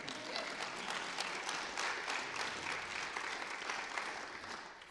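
Audience applause at a senate swearing-in ceremony, a steady wash of clapping from a full room that holds evenly for about five seconds before tapering slightly.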